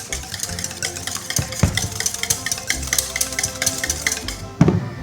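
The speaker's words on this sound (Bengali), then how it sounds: "এখানে আমি দুটো ডিম ফেটিয়ে নিচ্ছি।" Two eggs being beaten in a bowl for an orange cake, a steady rapid clatter of utensil against the bowl, close and continuous with no talking.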